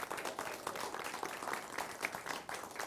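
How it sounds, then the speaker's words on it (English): Audience applauding teachers at an awards show, a brief burst of dense, fairly distant clapping that holds steady throughout. "how about a round of applause for the humanity of these incredible teachers?"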